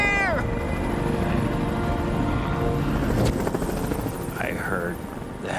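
Helicopters flying close overhead near a remote island ridge, a loud continuous rotor and engine roar that fills the whole stretch, with a brief voice call near the start and another at the end.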